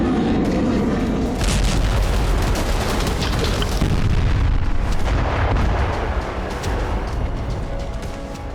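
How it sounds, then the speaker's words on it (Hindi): Heavy rumbling explosions in Iran boom and blast one after another, loud and dense, with a low continuous roar between them. "लेकिन ईरान में धमाकों का शोर शुरू हो चुका है।"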